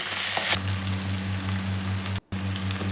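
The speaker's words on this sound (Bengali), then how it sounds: "এবারে ওই গরম তেলের মধ্যে আমি গোটা মশলা ফোড়ন দেব দিলাম গোটা এলাচ দারচিনি ও তেজপাতা এরপরে দিয়ে দিচ্ছি পেঁয়াজ কুচি" Chopped onion and whole spices (cardamom, cinnamon, bay leaf) fry in hot oil for halim, producing a steady close sizzle after a louder initial burst, with one brief drop to near silence.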